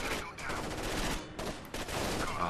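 Gunfire from non-player allies in Rainbow Six Vegas 2, a dense, continuous fusillade of shots packed close together, with a couple of brief dips, running loud and unbroken throughout.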